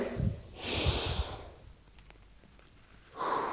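Deep, forceful breathing during a stretching workout: a loud, drawn-out breath near the start, a quiet pause, then another strong breath beginning at the end, all close and with no talk.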